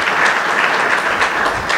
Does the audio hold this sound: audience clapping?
yes